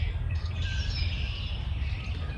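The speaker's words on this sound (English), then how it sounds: "Just hear those birds." Birds chirping outdoors in a garden on a late-winter day, faint high tweets running steadily over a low rumbling background with no one talking.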